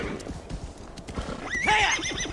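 A horse in Assassin's Creed Valhalla clops along with close hoofbeats, then lets out a loud, wavering neigh near the end.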